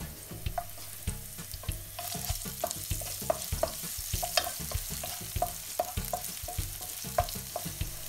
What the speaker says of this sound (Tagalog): Pag mainit na, isauté ang garlic.